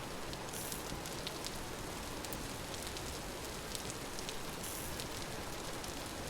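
Steady video-game rain patters on a surface, a soft even hiss with scattered droplet ticks throughout, fairly quiet and alone.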